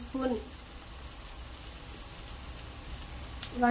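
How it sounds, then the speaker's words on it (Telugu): Onions frying in a pan for panipuri filling give a steady, even sizzle throughout, with brief bits of voice at the start and end. "ఉల్లిపాయలు వేసి వేపాలి 10 నిమిషాలు"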